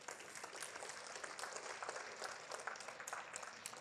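Steady, fairly faint applause from a keynote audience in Corpus Christi, dense clapping that holds evenly through the whole stretch with no voices on top.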